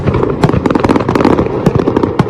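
Dense Diwali fireworks and firecrackers crackle and pop in a rapid, continuous barrage of sharp bangs, loud and close, with no voices.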